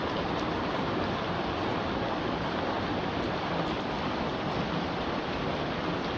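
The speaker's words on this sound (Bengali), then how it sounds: "মোটামুটি ভালোই বৃষ্টি হইতেছে" Rain pours steadily in a Bangladeshi village, a dense unbroken hiss of drops on surfaces, fairly loud and close throughout, with no voices over it.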